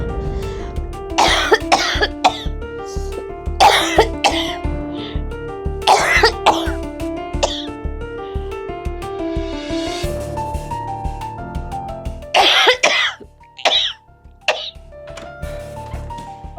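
An elderly mother coughs repeatedly late at night, a series of harsh bursts with short gaps between them, close and loud, over soft background music.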